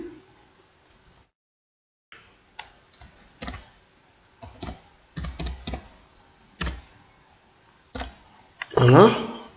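Keys tapped on a computer keyboard in short separated bursts of clicks, near and fairly quiet, with brief pauses between groups and a louder clatter at the end, and someone speaking French in between.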